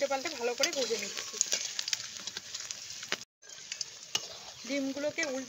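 Battered egg pieces fry in hot oil, a steady close sizzle broken by scraping stirs as they are turned, with a speaking voice at the start and end and a brief dropout midway.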